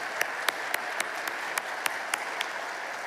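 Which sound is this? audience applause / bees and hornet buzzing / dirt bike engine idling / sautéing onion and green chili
audience applause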